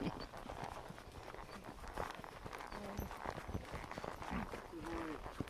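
Hooves clop in an uneven walking rhythm, close by, with soft rustling around them and a voice speaking faintly in places.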